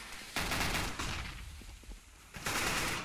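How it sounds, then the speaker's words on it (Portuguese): Gunfire from Counter-Strike on the Inferno map during a pro league match, with sharp bursts of shots at the start and again near the end around a quieter stretch of scattered clicks. "Consegue escapar aqui de um tiro do QNS."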